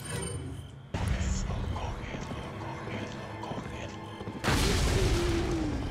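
Cannon fire booms out in the video game Resident Evil 4, with heavy blasts at about one second and again near four and a half seconds over a dense game soundscape, while someone talks.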